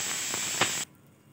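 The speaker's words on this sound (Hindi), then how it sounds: "अब मैं इसका वेट हटा देती हूँ ताकि गैस निकल जाए।" Steam hisses loudly and steadily from a pressure cooker of meat and potato curry after its weight is lifted, then cuts off abruptly, leaving quiet.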